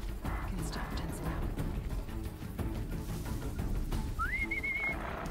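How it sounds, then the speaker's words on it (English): Near the end a short rising whistle calls over a rideable machine in the Horizon Zero Dawn game. Up to then there is a constant rumble of game sound. "I'm whistling it over."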